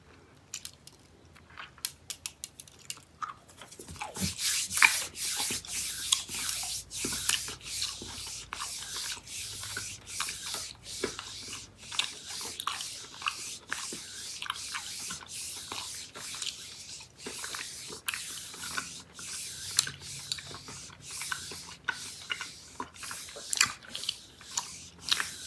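Warheads Ooze Chewz candy ropes in blue raspberry and green apple being chewed close to the mic, with steady wet, sticky mouth sounds and soft smacking that continue throughout, no talking.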